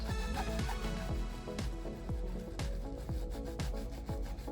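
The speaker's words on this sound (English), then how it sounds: "Applying the scrub." Fingers massaging a scrub into the scalp, producing close, soft rhythmic rubbing and scratching strokes that repeat at a steady pace.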